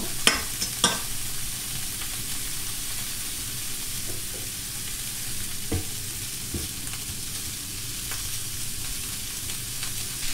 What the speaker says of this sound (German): Den Speck werden wir uns auch kurz anrösten